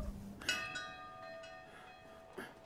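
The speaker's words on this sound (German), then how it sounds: "Dann haben wir die Glocke geläutet." A bell tolls in the video game Brothers: A Tale of Two Sons, one clear ringing strike with a long humming decay and a second fainter strike, over quiet ambience.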